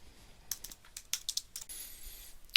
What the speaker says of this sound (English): type in the password for your SSID network